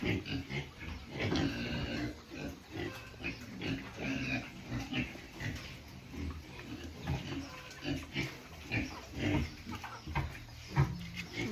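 Pigs on a farm grunt and squeal in a piggery raised for lechon, a busy, continuous chorus of snorts at moderate distance, with a dog and chickens faintly audible among them.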